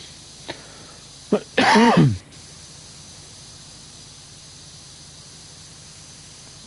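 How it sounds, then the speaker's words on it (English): A single harsh, loud cough bursts out up close, preceded by a couple of small throat clicks, from a streamer playing Powerwash Simulator, then the room settles back to quiet hiss. "Oh, god damn these coughs."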